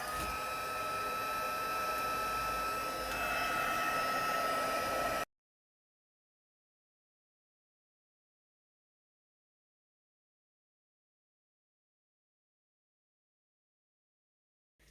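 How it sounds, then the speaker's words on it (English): A heat embossing tool set to level 2 blows hot air over card stock with a steady, close hiss that runs about five seconds and then stops, followed by silence. "So now I can get my heat embossing tool. I'm just going to put that on level 2."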